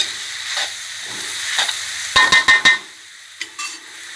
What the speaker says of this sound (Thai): ผัดแห้งๆไม่ต้องใส่น้ำเลยนะ